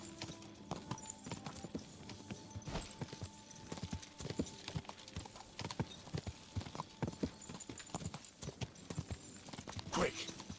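A horse's hooves clip-clop in the medieval video game Kingdom Come: Deliverance, a steady run of sharp, close strikes repeating throughout, with a brief whinny near the end.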